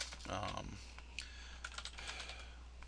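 Fingers type a password on a computer keyboard, a quick burst of close key clicks followed by scattered single taps over a low steady hum.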